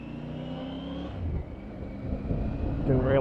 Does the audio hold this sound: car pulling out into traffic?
yes